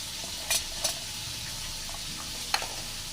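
Bhola fish frying in a pan with spices, a continuous close hiss and sizzle with a few sharp clinks of stirring, no voices.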